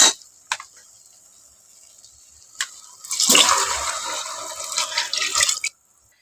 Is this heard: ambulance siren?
no